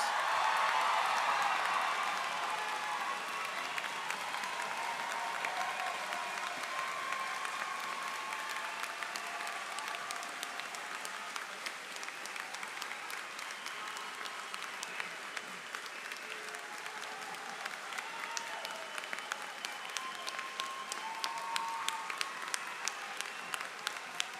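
Prolonged applause for undergraduates at a university commencement ceremony, a large crowd clapping steadily and at a distance for over twenty seconds, with faint crowd murmur beneath.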